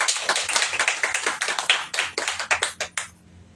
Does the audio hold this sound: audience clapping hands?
yes